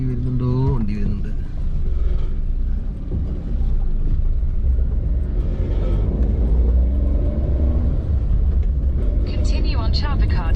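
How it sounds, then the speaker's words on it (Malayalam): A vehicle passes on Wadakkanchery–Kunnamkulam Road in Thrissur, Kerala, a steady close road rumble running throughout, swelling at the end, with people talking over it. "വണ്ടി വരുന്നുണ്ട്"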